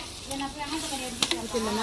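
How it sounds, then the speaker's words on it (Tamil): Water poured into a hot pot of Kottur biryani sizzles and hisses briefly, a close steady fry with a couple of sharp crackles and no voices. "இப்போ வந்து பைட்டில தண்ணி ஊத்த போறாங்க"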